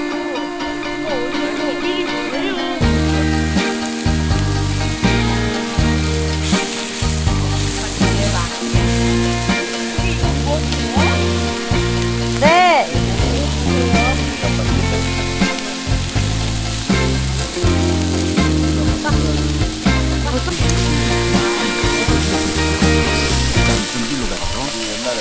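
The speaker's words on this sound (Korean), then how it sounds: "저 튀김인데? 탕수육이네, 탕수육." Sweet and sour pork (tangsuyuk) deep-fries at a campsite, a loud continuous sizzling and crackling of oil that persists steadily throughout, with occasional stirring noises.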